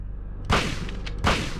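A shotgun fires twice in the Silent Hill video game, two heavy booming blasts about three-quarters of a second apart over a low ambient hum.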